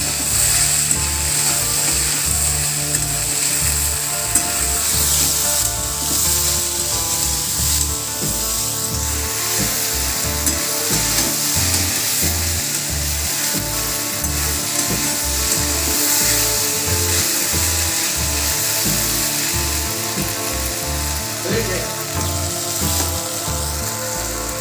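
Okra sizzles in hot oil in a pan while being stirred, a constant loud frying hiss with repeated low scraping knocks from the stirring that run throughout, with no talk.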